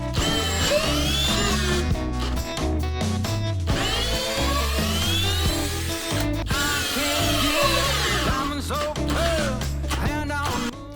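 A Dnipro-M Compact cordless drill bores into wood with a half-metre bit, its loud motor whining and surging as the long bit grinds and chatters through the material, with brief pauses as the load shifts.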